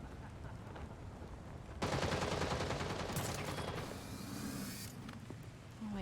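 A sudden burst of rapid automatic gunfire erupts in the Gotham Knights video game and rattles on for several seconds, loud and dense over a low background rumble, with a brief exclamation from a voice.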